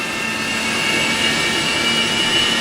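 Boeing 737-200 jet engine spooling up during start in the X-Plane 12 flight simulator, a steady loud roar with a high whine running throughout, no talk.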